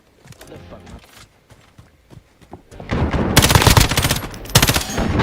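Video game gunfire erupts as dense automatic bursts in the second half, loud and sustained after quieter thuds and footstep-like taps.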